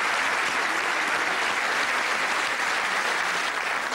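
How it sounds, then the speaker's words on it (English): A TV studio audience at a 1992 Bullseye Christmas special darts game show claps continuously, a loud even wall of applause with no voices. "Round of applause."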